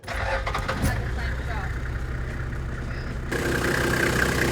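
An old Toyota car engine cranks and catches, then settles into a steady low idle with a rumbling hum, recorded close by and continuing throughout.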